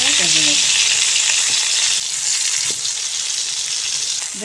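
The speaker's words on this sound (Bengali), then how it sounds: "বেগুন উল্টে পাল্টে ভেজে নেব।" Sliced eggplant frying in hot oil in a wok (kadai), a loud, steady sizzle throughout with a few brief stirring and turning scrapes.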